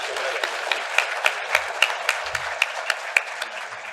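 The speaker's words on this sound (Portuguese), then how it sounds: "Salva de palmas para eles." Audience applause after a tech-partner panel at LIFT Day 2026, a steady wash of many hands clapping with sharper individual claps standing out, sustained at moderate loudness throughout.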